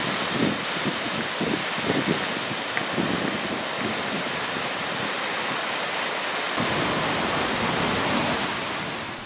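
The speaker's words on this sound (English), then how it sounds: "Falls that pour over an ancient sea cliff, where the coast of Iceland has risen from the waves." An Icelandic waterfall pours over an ancient sea cliff on the coast, sending out a steady broadband roar of falling water that stays loud and even, with no voices over it.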